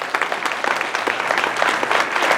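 Enthusiastic applause from a theater audience at the Historic Admiral Theater, dense, lively clapping that stays loud and steady throughout without speech.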